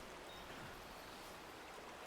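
Water from a stream being collected in Death Stranding 2, a steady, soft rushing and trickling wash that stays even and low-level for the whole stretch.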